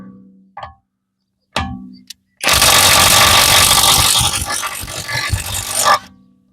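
Parkside Performance 600Nm cordless impact wrench loosening a nut, a few brief clicks, then about three and a half seconds of loud, continuous rattling hammering up close that stops abruptly.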